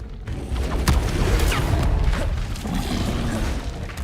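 A Protego shield spell is cast in Hogwarts Legacy, a booming impact with crashing thuds amid busy combat noise, loud and close throughout.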